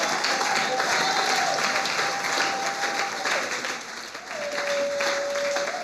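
A church congregation at a Sunday service applauds together in a sustained, dense wash of clapping, loud and close, with a sustained tone running underneath.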